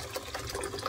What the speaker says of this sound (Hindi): ये पानी गरम कर लिया है, अब सारे बर्तनों में ये पानी इस तरह से डाल दूँगी।